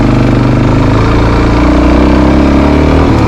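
Suzuki DRZ400 dual sport motorcycle engine droning loud and steady while riding, a close, continuous mid-pitched rumble with no talk over it.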